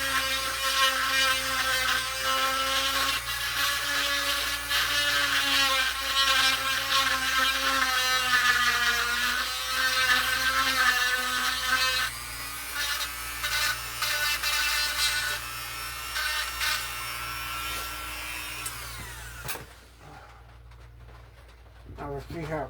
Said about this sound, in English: Still got to Dremel off to the back bits